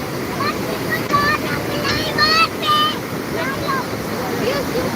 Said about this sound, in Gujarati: પાણીના લીધે તાપી બંને કાંઠે વહી રહી છે